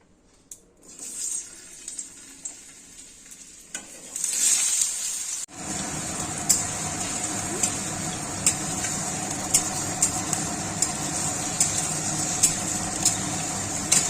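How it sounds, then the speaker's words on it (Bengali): Potatoes dropped into hot oil in a wok, quiet at first, then a sudden loud burst of sizzling that settles into a steady crackling fry with small repeated pops and scrapes, no voices. "তেল গরম হয়ে গেছে, আলুটা ছেড়ে দেব।"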